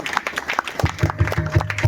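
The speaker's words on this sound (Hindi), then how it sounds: "जोरदार ताली बजाइए।" Audience applause at a Gondi stage comedy program, a short burst of steady rhythmic clapping from the crowd.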